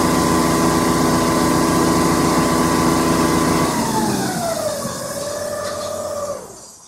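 A sewer jetter pump engine runs hard at full throttle with the line at 3000 PSI, a loud steady mechanical drone with tonal whine that shifts pitch and fades toward the end; no talking.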